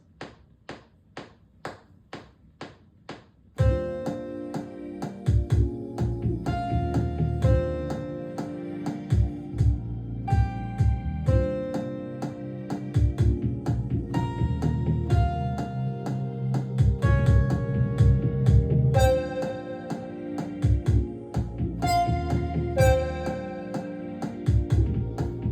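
Pitched-up chords from a Korg synthesizer ring out in a bright, layered progression with sharp tapping percussion. A few sparse taps come first, then the full loop enters at moderate volume.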